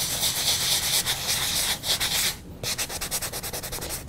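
A sponge rubbed in circular strokes over a chalk-paint stencil to distress it, a close, loud, continuous scrubbing that turns into rhythmic rapid rubbing after a brief pause.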